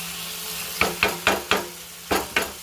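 Onions sizzling in a pan over steady broadband frying hiss, with a handful of sharp scraping or tapping knocks from a utensil at an uneven rhythm, close and moderately loud.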